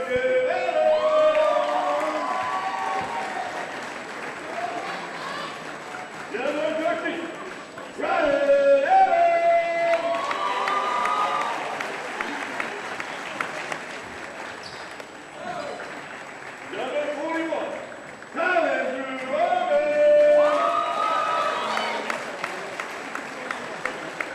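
Crowd cheering and applause ring out at a boys' high school basketball game as the Whalers' starting lineup is introduced, rising in bursts and fading between names under steady announcer commentary.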